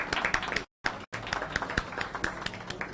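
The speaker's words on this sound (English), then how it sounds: "Your big claps, Siddhantham from Nagpur." An audience at a ceremonial stage event honoring invited guests claps in scattered bursts. The applause is moderately loud and uneven, broken twice by very brief dropouts.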